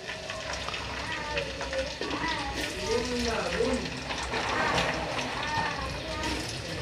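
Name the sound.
chopped onions frying in hot oil for chicken biryani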